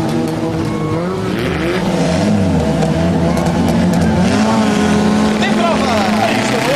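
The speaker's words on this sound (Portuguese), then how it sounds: "Os motores já roncam" Several stock car racing engines roar and rev together at a race start, loud and sustained, with a voice talking over the din.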